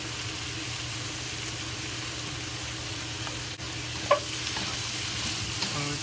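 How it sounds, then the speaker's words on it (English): Cabbage and bacon stir-fry with oyster sauce over high heat in a wok, producing a quiet, continuous sizzle and hiss with a sharp scrape or clack partway through and no speech. "Stir fry."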